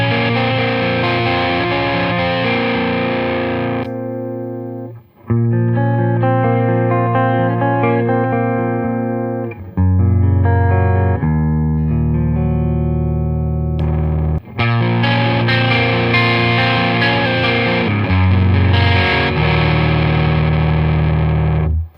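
Electric guitar on a clean amp setting, played as sustained chords and arpeggiated notes with a few short pauses between phrases, loud and close with light reverb and no talking.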